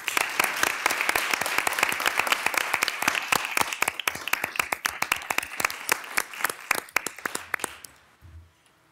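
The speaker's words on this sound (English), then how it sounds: "Let's give them a round of applause." Applause at a city council meeting honoring a women's basketball team, many hands clapping close and crisp, dense at first and then thinning into scattered claps before fading out.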